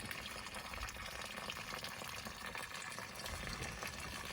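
Continuous rushing water draining from a camper water tank's low-point valve, a steady broadband gush like liquid pouring out of a drain, with no talking.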